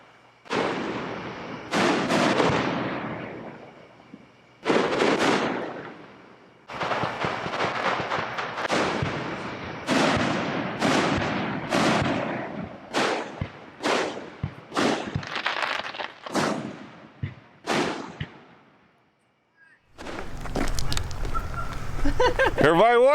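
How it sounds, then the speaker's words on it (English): Town fireworks burst at night near a campground in Ohio, a long string of sharp booms and cracks, some quick runs and some spaced apart, loud and echoing, ending in a short dense crackle after a brief pause. "this town has fireworks also"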